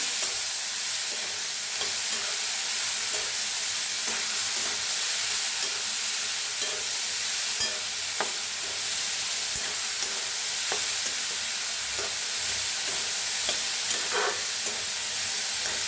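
Roasted corn tossed in a hot pan with squeezed lemon juice, a steady, loud sizzle and hiss running throughout, with faint scraping stir strokes scattered over it.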